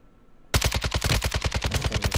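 Automatic gunfire in the video game Warzone 2 bursts in abruptly after a quiet half-second, a loud, rapid, steady stream of shots.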